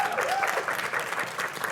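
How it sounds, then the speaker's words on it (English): A studio audience at a talk event claps in a brief, dense round of applause with a faint voice mixed in. "let's give a big round of applause for ADELE"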